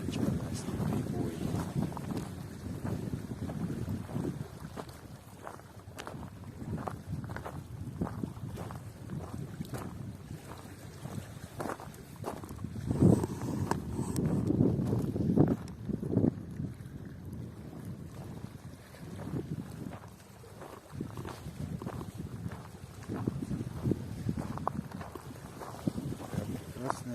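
Wind-driven surf on a lake shore near Kachkanar, low surging washes rising and falling over time with gusts rumbling against the microphone and occasional splashes, no voices.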